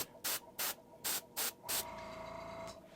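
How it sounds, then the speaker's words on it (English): An airbrush sprays paint in five short hissing bursts, each separated by a brief pause, before a small air compressor motor kicks on and hums steadily. "So I want to make sure there's enough pressure behind my spray so the paint will atomize and create that smooth mist."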